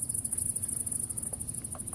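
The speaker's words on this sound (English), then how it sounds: "We got the grasshopper or the locust." Recorded grasshopper or locust chirping played as a nature track during a live sound-healing session: a steady, rapid high-pitched pulsing trill that repeats throughout over a low rumbling background bed.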